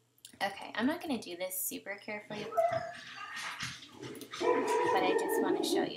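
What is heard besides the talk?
dog barking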